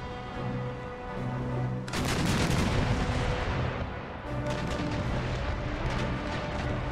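Ship cannon broadsides roar in the naval battle game Empire: Total War, a rolling series of booming volleys and crackling gunfire in clustered bursts over a constant low battle rumble, with no voices.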